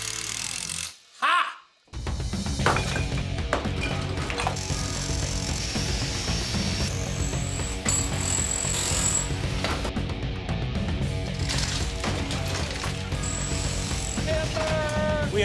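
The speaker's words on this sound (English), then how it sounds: "We are 3/4 of the way through taking this wall down." A thick cinder block wall is demolished up close, a loud dense run of crashing, scraping and tool impacts after a brief pause near the start, with a voice heard faintly amid the noise.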